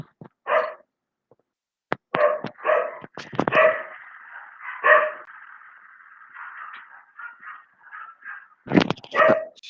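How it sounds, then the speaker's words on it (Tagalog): A dog barks and yips nearby, interspersed with a drawn-out whimpering whine, ending in a few louder barks. "maingay yung aso namin."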